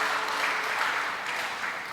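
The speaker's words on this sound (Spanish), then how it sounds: "Un aplauso, hermanos, para el hermano" A church congregation applauds steadily for a welcomed brother during a general service, a dense, even wash of clapping filling the room without pause, no voices rising above it.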